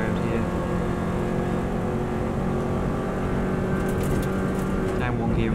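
A Subaru WRX STI turbo engine runs at full throttle around the Isle of Man TT Course, a loud, steady, sustained drone held close throughout with no lift-off.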